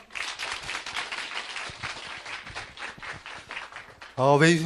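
A lecture audience gives a sustained round of applause, a dense, even wash of clapping for about four seconds that stops abruptly as a loud voice begins speaking.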